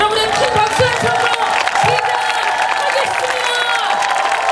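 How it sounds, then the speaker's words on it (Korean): An audience at a memorial event for President Roh Moo-hyun applauds and cheers, with loud crowd clapping, shouts and whoops filling the hall as a voice carries over the noise. "여러분의 큰 박수 한 번으로"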